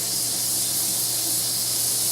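A continuous, steady hiss of escaping steam from a pressure canner making vegetable stock, close and even, with no clear rocking rhythm standing out.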